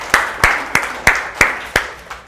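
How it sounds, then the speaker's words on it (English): An audience applauding at a talk on confidence and self-doubt, heard as a sparse run of about seven loud, evenly spaced claps, close and without voices. "Let's give you a round of applause."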